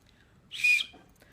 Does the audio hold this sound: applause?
no